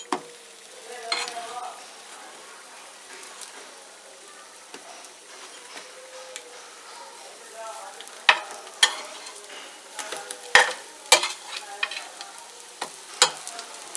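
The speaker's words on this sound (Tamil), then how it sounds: "இப்போ மறுபடியும் இந்த பக்கமாக பெரட்டி போட்டுக்கணும்." A bread omelette fries in a pan, giving a soft steady sizzle broken by sharp scrapes and clatters as a spatula flips it over, with the knocks growing busier toward the end.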